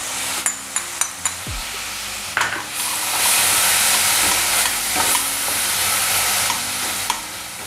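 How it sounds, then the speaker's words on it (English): Chopped tomatoes and spice seeds sizzle loudly in hot ghee, a steady frying hiss that swells after a few sharp clinks of the stirring utensil against the pan, with occasional scrapes as the mixture is stirred. "You can hear the seeds as they start to sizzle in the ghee."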